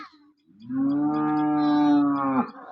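A single long, steady moo from a local dairy cow rises after a brief faint lead-in and holds for about two seconds, loud and close with no talking.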